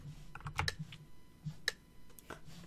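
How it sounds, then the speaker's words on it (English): Clicky mechanical computer keyboard being typed on during a Minecraft game session, a handful of sharp, close keystrokes in irregular quick bursts over a quiet background. "I love this keyboard. So clicky."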